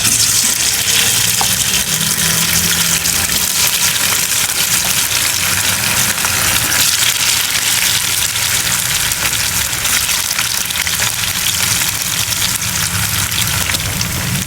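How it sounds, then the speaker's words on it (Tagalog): Tofu slices sizzle in hot oil in a wok, with a steady, dense frying crackle running continuously and evenly throughout, close up with no talking. "Ito-toast po natin ang ating tokwa"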